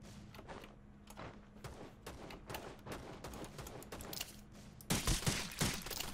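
Gunfire in the mobile video game Rules of Survival pops in quick repeated shots, fairly faint and distant, and a louder, denser volley comes near the end.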